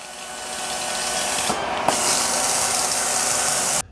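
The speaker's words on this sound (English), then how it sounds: "Let's spray some steam." A Shark steam mop's continuous hissing spray of steam builds, with a couple of clicks partway through, then cuts off abruptly.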